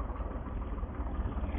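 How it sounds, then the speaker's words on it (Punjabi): A tractor engine idles steadily close by on farmland, giving a low, even rumble through the whole short stretch with no voices over it. "ਉਹ ਇੱਕ ਟਰੈਕਟਰ ਹੁੰਦਾ ਆਪਣਾ"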